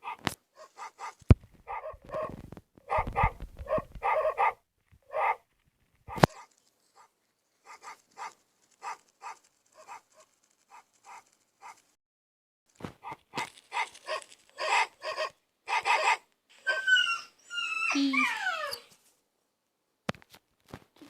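A dog in the video game Dog Simulator barks in repeated bursts of sharp barks separated by short silences, ending in a rising, yelping run of calls.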